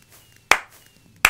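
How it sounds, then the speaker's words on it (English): Two sharp hand claps, spaced well apart in a slow, deliberate rhythm, sound up close with no voices. "I slow clap."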